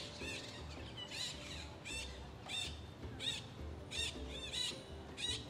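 Parrots and hornbills squawk repeatedly at a bird park, harsh bursts of calls recurring every second or so over a steady background murmur of distant birds.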